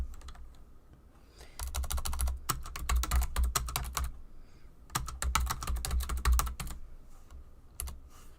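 Typing on a computer keyboard, close clicky keystrokes in two quick bursts separated by brief pauses, with a few isolated taps near the end.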